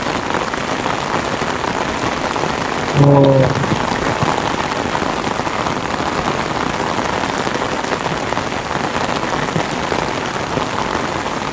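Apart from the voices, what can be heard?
heavy rain falling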